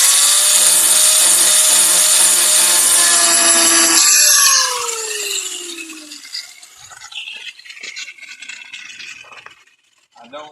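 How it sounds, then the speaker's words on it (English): A power sander works on wood just behind a door's molding, a loud steady rasping whine for about four seconds that winds down, then quieter scraping, rubbing and light clinks of handwork follow. "if I leave a little bit where I can just use the sander, it will still sand down that little bit"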